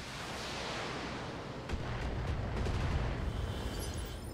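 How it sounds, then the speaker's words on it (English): Long-range missile volley launching from a mech in the Battletech game on PC: a steady rushing roar broken by a rapid series of sharp cracks and thumps, building in low rumble as the salvo fires. "Let's fire our LRMs."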